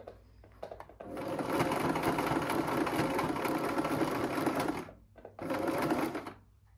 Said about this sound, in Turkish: ucu püskül püskül gözükmesin diye burayı dikiyorum